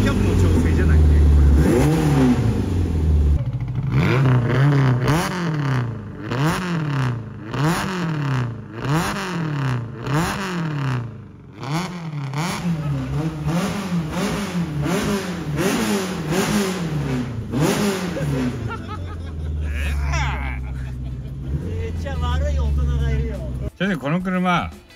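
A Nissan Sunny Coupe's engine idling roughly and then revved in a long series of rhythmic rising and falling blips, loud and close, with people talking over it.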